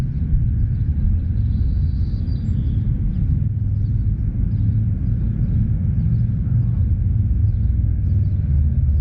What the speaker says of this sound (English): Yeah, rev that Harley up, bud. Yeah, rev that thing.